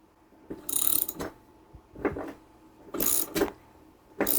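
Ratcheting clicks from a puller being cranked on a lawnmower engine, coming in short bursts with brief pauses between them, close and moderately loud with no talk.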